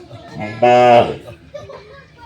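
A single close, loud moo from a Sahiwal bull calf, a drawn-out low bellow lasting under a second, with faint background voices and movement.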